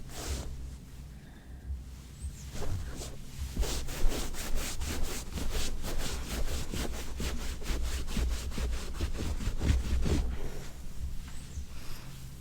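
A painted vinyl car seat is rubbed by hand in steady, repeated strokes, making a close, scratchy swishing that builds into a regular back-and-forth rhythm before easing off near the end.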